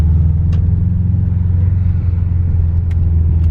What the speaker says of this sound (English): Look at that smooth takeoff.